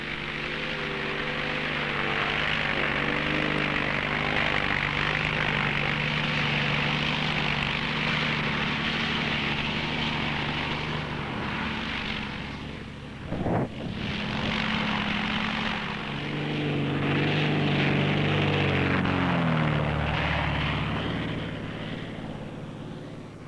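A propeller airplane used for cloud seeding drones steadily overhead, a loud continuous engine hum with shifting pitch that dips briefly midway, then returns at full strength.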